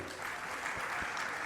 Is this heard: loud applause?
yes